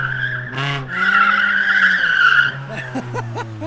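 A car skids around cones on a makeshift autocross course in an abandoned parking lot, with a loud sustained tire squeal over a steady engine drone, followed by a few shorter chirps.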